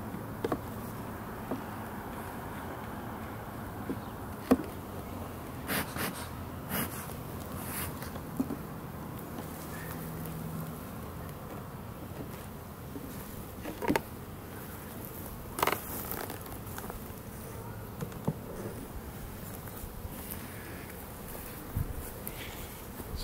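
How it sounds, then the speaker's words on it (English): Steady, faint buzzing of honeybees in a hive during an inspection, a continuous low hum with occasional soft clicks and taps. "there are bees on in this space and in between these two frames"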